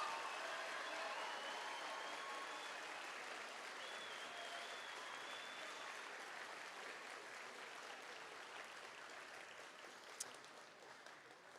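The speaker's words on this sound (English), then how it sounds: "Please help me congratulate our slate of nominees for this event with your thunderous applause." Sustained audience applause for a slate of award nominees at a robotics regional event, a dense wash of clapping that stays steady and fairly loud for the whole stretch, easing slightly toward the end.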